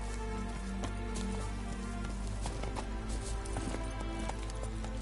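Roach the horse trots across The Witcher 3 game world, with steady hoof clip-clops set against a constant rain-like hiss and a low drone. No voices break through.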